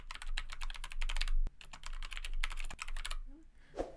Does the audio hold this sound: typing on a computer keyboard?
yes